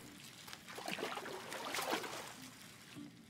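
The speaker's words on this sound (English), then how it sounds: "Gotta pour it right under the faucet so it makes bubbles." Bubble bath poured under a running bathtub faucet in the Life is Strange 2 game, a soft, steady gurgle and trickle of water, quiet and continuous, with no speech.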